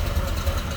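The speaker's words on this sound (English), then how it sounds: "Edelbrock air gap intake, and Edelbrock ABS2 carb. Good sounding engine." A 1972 Chevrolet C10 with an 383 stroker V8, Edelbrock air gap intake and Edelbrock carb idles close by, a steady low rumble with a faint rhythmic lope and no talking.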